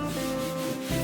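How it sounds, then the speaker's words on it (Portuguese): Old reclaimed wood is sanded by hand in a short, steady rubbing stroke, a close, continuous abrasive scrape with no voices. "Vou estar lixando ela"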